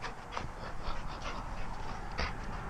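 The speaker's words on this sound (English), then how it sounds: "The dog's a little bit restless." A restless dog pants in rapid, soft breaths close by, with faint whimpering over steady outdoor background noise and a brief louder bump near the end.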